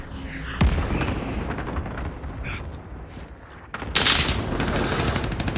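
Cluster strike explosions and rapid gunfire in Call of Duty Warzone, dense crackling bursts with a sharp boom early on and a louder barrage near the end, with game voices faintly under the chaos.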